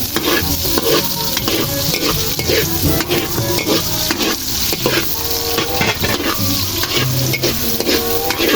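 Onions and beef skin for balbacua are stirred in a hot pan, a continuous loud sizzle and fry with repeated scraping and clinking of the spoon against the pan, close and busy.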